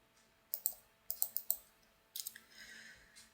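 A computer mouse clicking the Next button in a software dialog while backing up and opening a Java project: several sharp, close clicks in small bursts, no talking.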